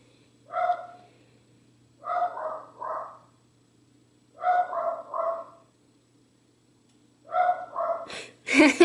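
A dog barks close by in four short clusters of one to three barks, separated by quiet pauses, ending with a sharper burst of noise.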